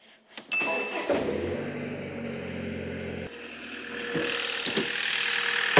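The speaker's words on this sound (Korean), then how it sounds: "일단 시동을 다시 한번 걸어 봐야겠네요" A used passenger car restarted on a cold winter day, the starter catching and the engine settling into a rough, rattly idle close by, with brief clicks and knocks around it.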